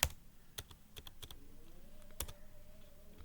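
Fingers type on a computer keyboard up close, a sparse series of sharp individual key clicks with short pauses between them, quiet and alone with no talking.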